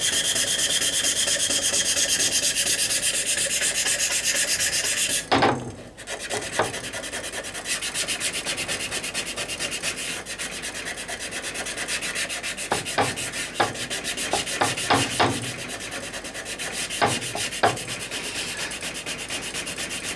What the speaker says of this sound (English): Flexible sandpaper again. Lots of dust.